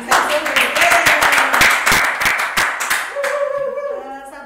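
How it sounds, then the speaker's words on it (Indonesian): Hands clapping together as applause at the opening of a podcast, a dense burst of claps running for several seconds over talk and then fading as speech continues. "Ini kalau dengan tepuk tangan kita tepuk tangan ini"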